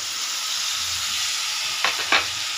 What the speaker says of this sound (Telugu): ఇందులో కాస్త ఫ్రై చేసుకోవాలి ఆయిల్లో కొద్దిసేపు